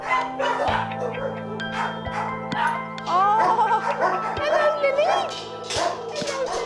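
Dogs barking and yipping in an RSPCA animal home in Staffordshire, several dogs calling over a steady background hum, with a voice talking at times.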